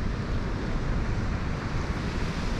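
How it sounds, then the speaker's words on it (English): Strong wind roars and buffets steadily against the microphone, a dense rushing noise with no voices. "It's pretty windy right now."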